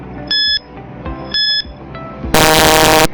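Quiz countdown timer alarm in a classroom-style English lesson: two short multi-tone electronic beep bursts followed by a longer, loud harsh buzzer blast, all alone with no voices.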